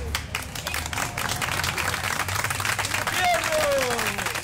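A medical team at a cancer hospital applauds a charity runner on a stop along a long-distance run, with steady, dense clapping that continues throughout and a crowd murmuring beneath it.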